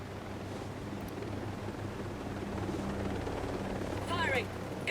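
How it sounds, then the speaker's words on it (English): Helicopter rotor thrum in the Ghost Recon Breakpoint video game, a steady low drone under gameplay noise that swells toward the end as a voice talks over it. "can you shoot down the helicopter?"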